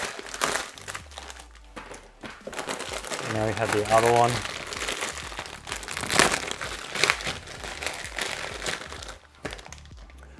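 Close crinkling and crackling of plastic bags of computer cables being handled and torn open, with a brief spoken remark partway through.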